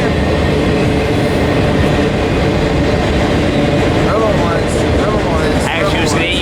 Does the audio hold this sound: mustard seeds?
no